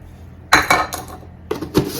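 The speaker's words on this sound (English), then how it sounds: "Mix all the dry ingredients together." Dry muffin ingredients are stirred in a bowl, giving several clinking scrapes of a utensil against the dish in short separated bursts, close and alone.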